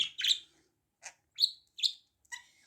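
Pet budgerigars and a cockatiel chirp in a few short, sharp bursts separated by silence, close and clear with no other sound.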